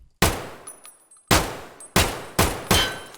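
Gunshots at the shooting range in Escape from Tarkov: five loud, sharp reports, each with a fading echo, starting with a single shot and a pause, then four quicker shots in an uneven rhythm.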